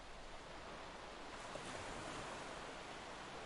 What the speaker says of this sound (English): Right when the waves crashed on this unstable, sandy piece of land